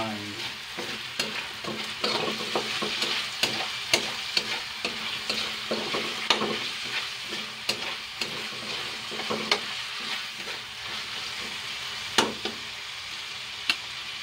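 Squash, okra and ham sautéing in a pan: steady sizzling frying with repeated scraping stirring clicks of a utensil, close and continuous with no talk.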